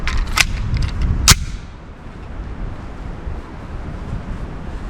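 Two sharp, loud gunshots from a Colt 1911 Competition pistol ring out about a second apart at an outdoor range, followed by wind rumbling on the microphone.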